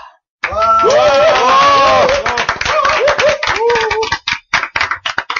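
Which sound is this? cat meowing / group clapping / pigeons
group clapping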